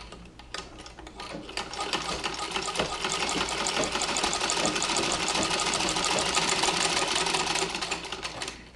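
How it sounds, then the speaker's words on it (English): A Singer treadle sewing machine runs steadily, its fast needle clatter and whirring mechanism building to an even rhythm and easing off near the end, heard close with no talk. "Now what I'm doing is making sure that the machine sews fine before I take it out."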